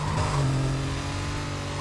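A supercar engine in the video game Need for Speed Carbon roars steadily at high revs, loud and continuous with no talk over it.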